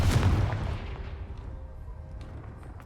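The Confringo explosive spell goes off in Hogwarts Legacy as a single booming blast, loud at the start and then fading into a rumbling decay over a few seconds.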